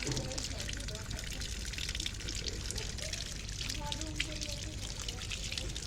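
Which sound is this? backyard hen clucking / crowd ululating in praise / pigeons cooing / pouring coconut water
pouring coconut water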